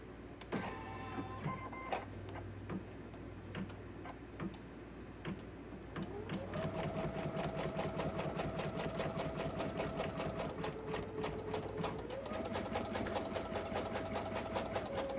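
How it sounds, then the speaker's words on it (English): A home sewing machine stitches an embroidery design onto an apron, laying a basting stitch around the design area. After a few setup clicks, a steady, fast mechanical whir and rapid needle rhythm run continuously and up close. "So I'm going to go ahead and stitch this design."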